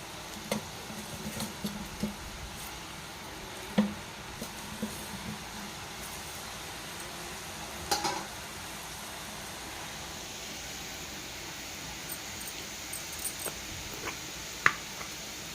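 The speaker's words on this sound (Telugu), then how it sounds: "మిగిలినవి కూడా ఇలా వేసుకుంటా ఉంటే చక్కగా వేగుతాయి." Biscuit dough pieces frying in hot oil, a faint steady sizzle and bubbling with occasional soft pops and clinks throughout.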